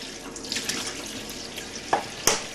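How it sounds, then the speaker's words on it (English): A polymer printing plate on a Polydiam PSE platemaker is washed under running water, giving a steady close tap-and-sink splash with brief sharper splashes near the end. "The washing of the polymer plate should take no more than 2 or 3 minutes."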